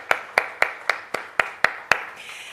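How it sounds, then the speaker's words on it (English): A single pair of hands claps eight times in a slow, steady rhythm at a conference launch event, each clap sharp and close, with no talk over it. "A round of applause for all our sponsors"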